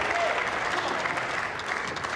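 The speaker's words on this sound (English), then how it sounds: "Orchestrating the applause." Warm applause from the crowd at a World Cup of Pool semi-final between England and Japan, a dense burst of clapping at moderate distance that carries evenly for a couple of seconds.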